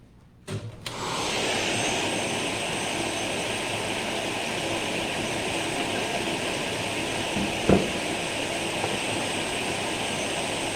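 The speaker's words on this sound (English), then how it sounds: "Grace, can you turn on the dust collector?" A dust collector in a paleontology lab switches on and runs, a loud steady broadband roar with a high whine that holds constant, with a brief knock partway through.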